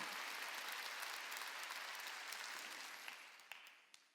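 Church congregation at a Wednesday worship service clapping together in a dense, steady burst of applause that gradually fades, with a few last isolated claps near the end.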